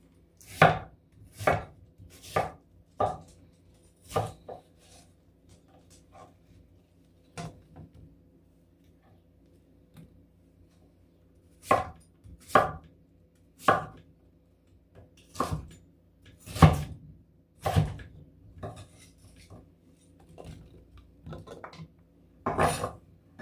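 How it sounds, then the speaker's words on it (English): A knife chops an onion on a cutting board in a home kitchen, sharp close knocks coming in irregular bursts with short pauses between runs, no talking. "I'm going to cut up an onion next."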